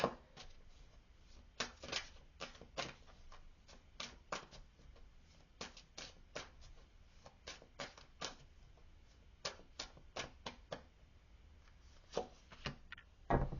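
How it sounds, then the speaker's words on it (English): Advice cards being shuffled by hand during a tarot reading, a quiet run of crisp riffling snaps and soft card slaps in an irregular rhythm, close and alone. "So let me come in with some advice cards here, eh?"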